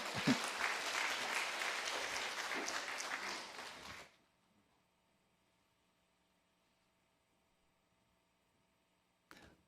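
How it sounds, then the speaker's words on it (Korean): A church congregation at a Sunday service applauds to welcome a preacher, with steady clapping filling the room for about four seconds before it stops abruptly into near silence, then a faint brief sound at the end. "뜨겁게 박수로 환영하십니다"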